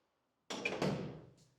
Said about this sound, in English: I have to close the doors